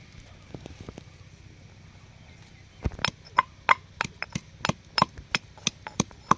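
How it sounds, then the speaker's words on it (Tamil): Green chillies are pounded for a Kolli hills crab rasam: after a quiet stretch with a few faint taps, a dozen or so sharp, rhythmic thuds sound close by, evenly spaced and fairly crisp. "இப்போ பச்சை மிளகா ஒரு 3 போடுறோம். அதையும் நல்லா நுணுக்கி எடுத்துக்கலாம்."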